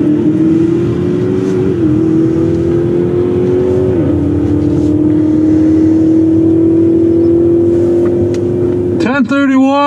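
A Dodge Demon and a Jeep Trackhawk launch side by side at a drag strip, engines loud and close in a sustained high roar with RPM shifts, ending in a rising rev as the cars pull away.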